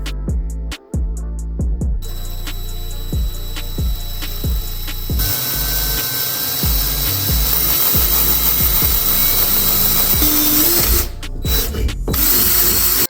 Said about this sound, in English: we're going to drill a pilot hole with a smaller drill bit